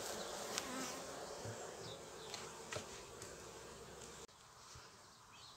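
Honeybees swarm a beehive super as a second super is added, giving a soft, continuous, close buzzing drone with occasional louder passes from single bees.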